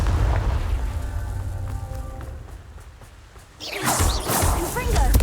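A Confringo blasting spell from Hogwarts Legacy goes off in a sudden loud burst of booming crackle. It follows quieter game ambience and a long tonal hum, then noisy debris fizzes and crackles to the end.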